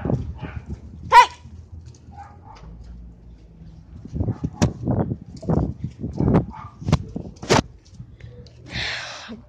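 Several short, sharp dog barks scattered through the clip, some close and loud, with quieter rustling and thumps between them.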